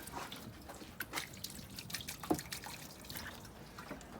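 Quiet, irregular drips of water from the scuttle drain of a VW Caddy Mk2 patter close by, soft splashes spaced unevenly against a low background hum.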